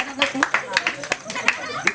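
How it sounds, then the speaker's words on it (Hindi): Audience at a live village comedy show gives scattered, uneven claps close by, heard mixed with talking voices and crowd noise. "एक बार जोरदार ताली हो जाए"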